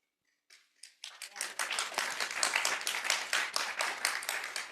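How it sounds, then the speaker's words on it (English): Congregation clapping at a church service: after a silent start and a few hesitant claps, a steady round of many hands builds and continues in even rhythmic bursts. "That clap was for social justice."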